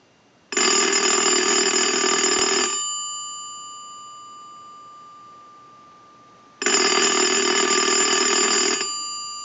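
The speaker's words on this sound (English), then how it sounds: "We'll start that ring cycle." A loud, insistent grand desk telephone bell rings in two long bursts separated by a pause, the metallic ringing fading slowly after the first burst.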